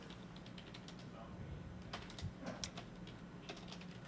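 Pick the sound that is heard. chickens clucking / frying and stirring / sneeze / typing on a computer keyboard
typing on a computer keyboard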